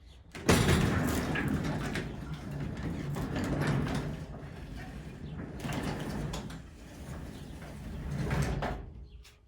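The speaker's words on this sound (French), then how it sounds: "C'est pour ça que là, j'arrive à la monter tranquillement et elle redescend tranquillement." Spring-assisted garage door being raised and then lowered by hand, a loud, sustained rumbling slide with clattering and a few knocks as the panel travels, swelling again near the end.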